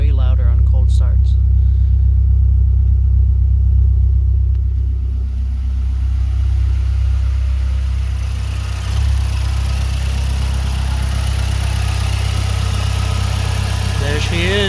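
A 2012 Mazdaspeed 3 fitted with a catless downpipe exhaust idles on a damp cold start, giving a loud, deep, steady rumble close to the car.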